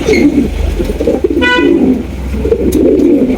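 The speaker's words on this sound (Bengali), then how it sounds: "একজন ব্ল্যাক হাউস পিজন কবুতর অনেকদিন পর দেখলাম" Black house pigeons cooing in low, throaty rolling bursts, close by and continuous, with a brief faint chirp partway through.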